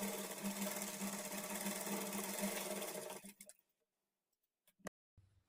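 A sewing machine stitches blouse darts in a steady, close whirring run for about three seconds, then stops, leaving near silence broken by a couple of small clicks and knocks.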